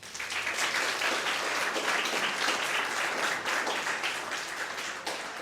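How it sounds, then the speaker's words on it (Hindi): Audience applause welcoming the principal at a panel discussion on higher education: a full room clapping steadily and densely for several seconds, moderately loud and even, tapering slightly toward the end. "तो हम सबसे पहले प्रिंसिपल मैम का एक बार फिर तालियों से स्वागत करें।"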